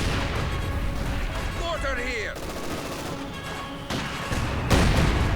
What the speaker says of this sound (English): Mortar rounds falling down though.